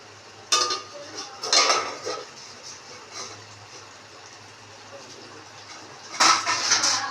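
A pot of Bengali tel koi, oil-cooked climbing perch, gets a lid clattered on and is lifted off the stove: a few bright metallic clinks and scrapes in short bursts with quiet gaps between.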